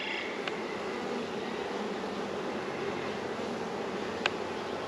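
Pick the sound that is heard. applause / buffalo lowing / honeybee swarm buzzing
honeybee swarm buzzing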